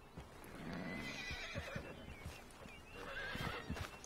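A horse in Red Dead Redemption 2 whinnies twice with bright neighing calls over soft clip-clopping hooves, fairly quiet and close, with no talk.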